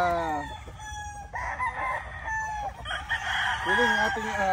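Gray chickens crow in long, wavering calls mixed with clucking, several birds sounding close together over a steady background of farmyard noise.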